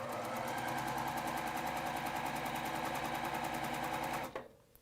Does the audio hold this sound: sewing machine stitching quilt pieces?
yes